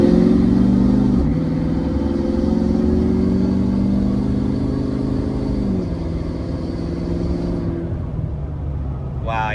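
A Ford F-250 pickup accelerates at about half throttle, its engine droning loud and close with rising pitch, then dropping as it downshifts and climbing again under held throttle, with road rumble throughout.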